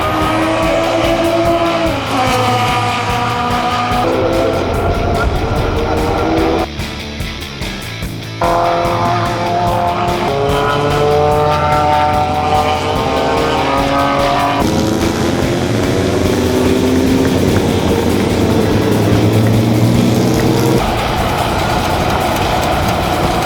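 Vintage race cars, from MG Midgets to F1 cars along with a 1966 Alfa Romeo GTV, drive on a race track, a loud continuous engine roar with rising and falling revs as cars pass.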